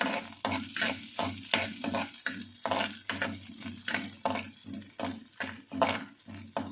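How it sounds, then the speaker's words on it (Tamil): Garlic cloves sautéing in a pan for a fish curry with coconut and raw mango, with quick rhythmic spoon scrapes over a continuous sizzle, close but fairly soft. "அந்த பூண்டு பற்கள் எல்லாம் இதில் சேர்த்துக்கலாம். இதையும் நல்லா வதக்கிடலாம்."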